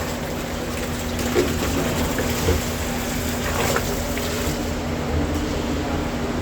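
Hose water running steadily into a cold plunge tub, a continuous watery rush with a low hum beneath, fairly close and even throughout with no talking.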